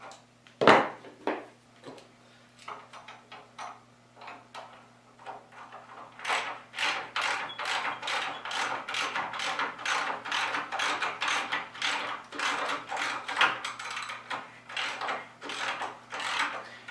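Ratcheting clicks ring out as a bolt is tightened on a wooden pencil post bed during assembly, a rapid, steady train of crisp mechanical ticks close by, with a few scattered knocks beforehand and a low hum underneath.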